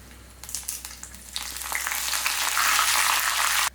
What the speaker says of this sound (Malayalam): എണ്ണ ചൂടായിട്ട് ഇതിലേക്ക് നമുക്ക് കുറച്ച് കടുക് ഇട്ട് കൊടുക്കാം. കടുക് പൊട്ടി ഒന്ന് തുടങ്ങുന്നുണ്ട്.